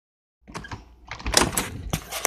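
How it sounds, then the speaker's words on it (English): Someone busts down a door in a Bendy and the Ink Machine setting, producing a series of rattling knocks and heavy clattering impacts that build in loudness, close by. "He's busting down the door right now."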